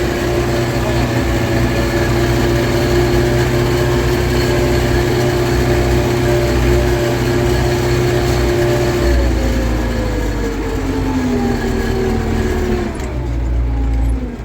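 A YUMZ 4x4 tractor, plowing without front-wheel drive engaged, strains with a loud, steady engine drone as its wheels slip. Near the end the engine pitch sags downward under the load.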